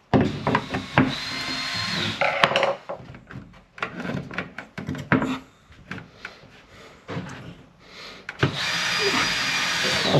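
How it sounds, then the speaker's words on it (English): A back-to-back outdoor electrical socket being screwed into place on site, with a power driver whirring in bursts among scraping and knocking of the fitting and tools, close and fairly loud. "Now we're just screwing him in."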